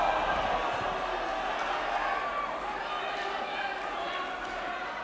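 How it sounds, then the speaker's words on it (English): A capacity crowd at a live wrestling show roars in a steady, dense wash of noise that fills the whole stretch without pause, with a commentator's voice running over it. "You can hear the reaction from this capacity crowd"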